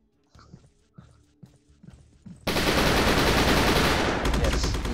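In the VR team shooter Alpha Mike Foxtrot, an AK rifle gives a few sparse clicks and clacks, then opens into a loud, continuous burst of automatic fire that carries on to the end.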